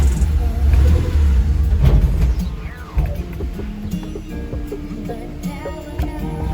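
A 4x4 car engine revs through its exhaust with a deep, loud rumble for the first couple of seconds, then drops to a lower hum under background music and a little talk.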